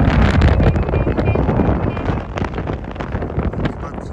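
Strong wind buffets the microphone outdoors, a heavy low rumble that gusts and eases throughout.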